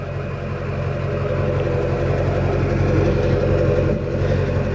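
A 2004 GMC 2500HD Duramax diesel pickup fitted with an MBRP exhaust idles nearby, a steady deep rumbling drone with a faint ticking clatter, loud and even throughout.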